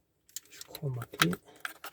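A metal wrench is picked up with jingling, clinking handling noises near a car's leaking fuel injectors, loud and close over about a second and a half.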